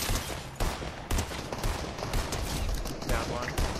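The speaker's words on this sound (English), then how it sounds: "I'm getting shot at" Video game gunfire, repeated close shots and bursts in an irregular rhythm against a busy, noisy background, with a voice talking faintly underneath.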